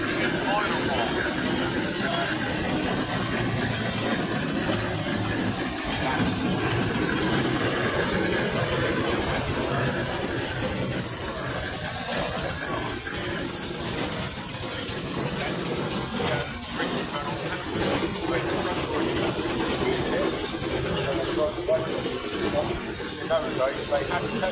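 Steam traction engine at a vintage rally hisses steam continuously and loudly, a dense broadband rush with faint mechanical clatter beneath it throughout.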